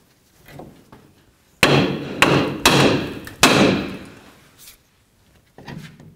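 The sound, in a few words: hammer striking ball joint and knuckle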